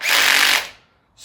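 A power drill set to hammer mode rattles loudly for about half a second, then winds down into silence before briefly starting up again.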